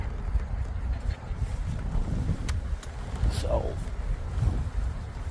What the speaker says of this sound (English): there's an upstream wind, which is good.